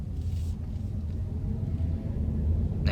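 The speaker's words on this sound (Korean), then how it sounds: "처음에 이제 시동 걸고 출발할 때 소리 다시 보시면은" A Hyundai Kona Electric starting up and pulling away, heard as a faint, steady low rumble and road hum that builds slightly as it moves off, with no engine note.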